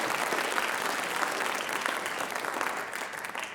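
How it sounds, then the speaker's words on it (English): Audience applause for participants in a dad joke competition at a school writers expo: dense, steady clapping from a crowd filling the space, holding at even strength throughout and easing only slightly toward the end. "round of applause for our participants here today"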